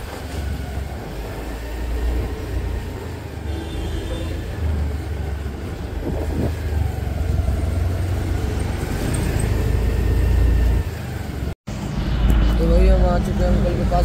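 Steady road noise and wind roar from riding a scooter through traffic in India, with passing vehicles and a brief dropout near the end.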